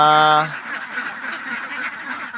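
A domestic duck gives one loud, nasal quack at the very start, then only a rustling, breezy background follows.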